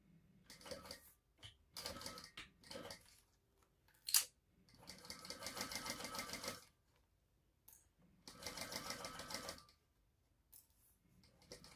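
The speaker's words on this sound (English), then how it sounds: "we're going to stitch this at the seam allowance in the pattern" A sewing machine stitches a fabric seam at the seam allowance for a Sorella pattern, running in three bursts of fast, even mechanical whirring and clatter, with short clicks and pauses between runs.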